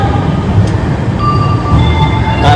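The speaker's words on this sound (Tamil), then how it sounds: "கரெக்டாக 11:37க்கு சென்னை சென்ட்ரல் ரயில்வே ஸ்டேஷன்லேருந்து டிபார்ச்சர் ஆகிருக்கு இந்த ஷீரடி சாய்நகர் ட்ரெயின்" Shirdi Sai Nagar express train pulling out of Chennai Central, heard from inside a second AC coach as a steady low rumble of rolling wheels with faint metallic squeals and tones.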